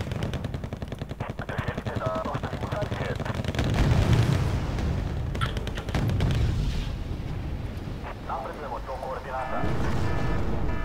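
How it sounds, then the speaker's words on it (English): Artillery and automatic weapons firing in the Wargame Red Dragon 10 vs 10 Yugoslavia battle, rapid rattling fire with heavy booming impacts, while players talk over it. "Artillery, lol."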